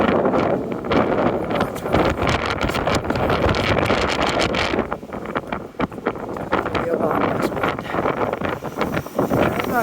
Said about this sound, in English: And I got a crosswind right here.